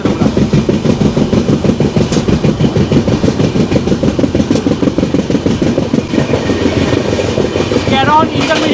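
Kanchankanya Express rolling through Karon intermediate station, with a steady, rhythmic clatter of wheels on rail joints and a low rumble, loud and close from inside the train, with a brief higher squeal near the end.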